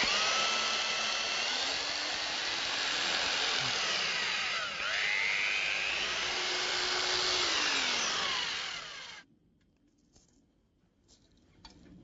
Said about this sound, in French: Repérez tout d'abord sur le mur l'emplacement des trous de fixation de l'armature et percez les trous.